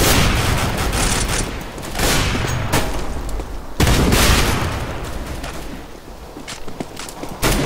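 Shotgun blasts in Counter-Strike: Global Offensive, loud repeated gunfire in a busy firefight, several sharp bursts spaced irregularly over dense background game noise and footsteps.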